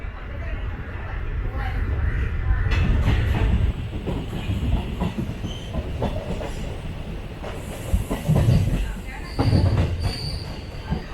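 The 06659 Express Special passenger train, running from Sengottai to Kollam, rumbles along the rails with rhythmic wheel clatter and squealing, heard up close from on board with people talking over it.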